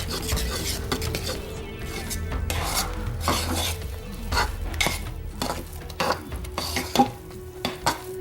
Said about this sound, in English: I'm just going to stir it in and wait a little while to be sure that it's stirred in thoroughly.